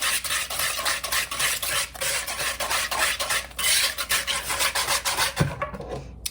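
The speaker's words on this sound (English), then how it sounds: "you want to whisk those in until they're combined" Eggs whisked into cake batter for an apple cider donut cake, a steady close scraping and stirring rhythm of a whisk against a bowl, with a clink near the end.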